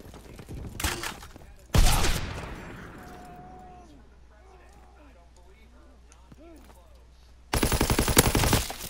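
Call of Duty: WWII gunfire comes as short loud bursts of automatic fire with a long decaying echo, then a quieter stretch before another dense burst; someone talks over parts of it.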